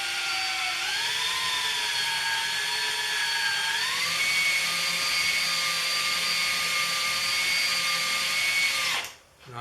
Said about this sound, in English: I put the bolt in here so I could drive the shaft with my drill.